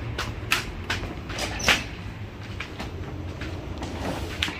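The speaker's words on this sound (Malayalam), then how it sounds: "Amtrak Niagara ഫോൾസിലെ സ്റ്റേഷനിലെത്തിയിരിക്കുകയാണ്." An Amtrak train at the Niagara Falls station gives a low steady rumble with occasional clunks and knocks, moderately loud and continuous.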